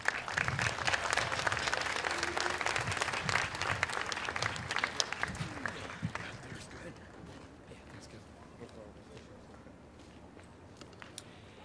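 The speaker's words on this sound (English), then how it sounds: "Please give a round of applause to Mike Beitler." Audience applause at a Greensboro Tea Party rally in 2011, a dense burst of clapping that swells loudly and then thins out to scattered claps.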